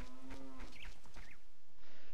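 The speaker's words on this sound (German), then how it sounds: "Neben Kühen, die hier irgendwie reingekrochen sind." Cows mooing in The Legend of Zelda: Ocarina of Time, one low drawn-out moo followed by a couple of shorter bellows, clear and close with no talking.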